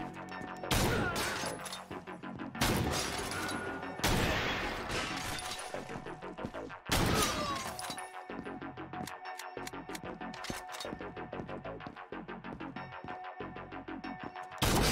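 Repeated loud shotgun blasts in a video game firefight, several sharp booming shots spaced across the span with reload clatter and crashing impacts between them.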